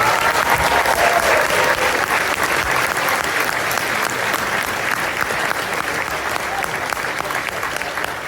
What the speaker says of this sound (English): please give yourselves a huge round of applause for just being great